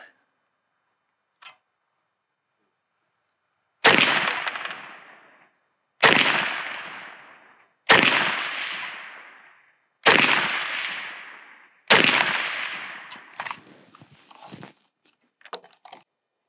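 Rifle fitted with a red dot sight fired at an outdoor range: five loud, sharp shots spaced about two seconds apart, each with a decaying echo, followed by faint clicks and handling noises.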